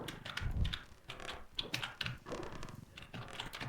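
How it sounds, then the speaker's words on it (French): Rapid clicking keystrokes on a computer keyboard during an online game session, an irregular dense patter of close taps with a soft low thump near the start and no talking. "j'entends vraiment tout le temps tes touches de clavier"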